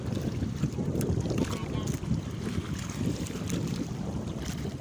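Small fishing boat being paddled out to sea, with steady water splashing and sloshing against the hull under strong wind rumble on the microphone, continuous and close throughout.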